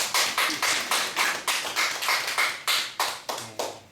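Audience at a Korean Christian broadcast lecture clapping in unison, a dozen or so sharp, evenly spaced claps in a steady rhythm, close and fairly loud, with no talk.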